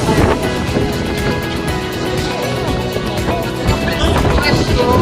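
Strong seaside wind buffets the microphone in a loud, continuous roar with surf-like rushing, and voices talk faintly beneath it.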